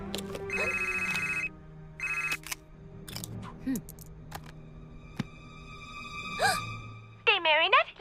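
Telephone ringing while a call is placed in an animated film, with repeated electronic ring bursts early on, scattered clicks and effects, and a warbling tone near the end.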